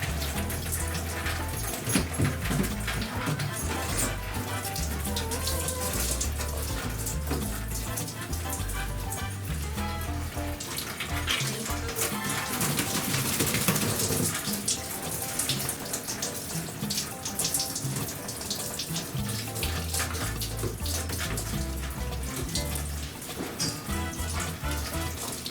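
Shower water runs continuously while a Shih Tzu is shampooed, a loud, close, steady spray and splash with a little rustling under it.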